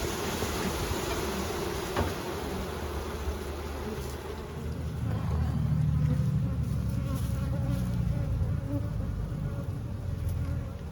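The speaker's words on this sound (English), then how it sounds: "It's nicely full of bees." Honeybees buzzing in an open hive, a dense, steady drone heard close up that swells slightly midway and continues without a break.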